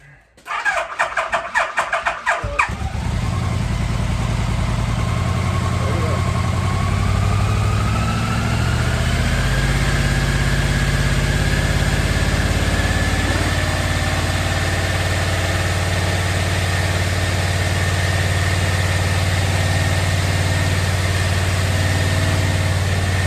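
A motorcycle engine cranks with rapid sputters, catches, then settles into a steady, loud idle to warm up and charge the battery, running unbroken for the rest of the clip.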